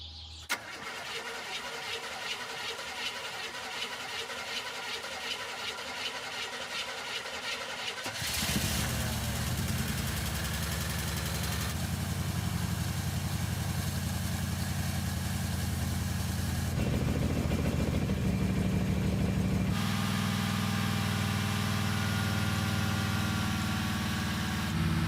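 A Chevy K10 pickup with a newly installed cam cranks for several seconds with a steady rhythmic churn, then fires and settles into a loud, rough, lumpy idle that shifts in pitch as it runs.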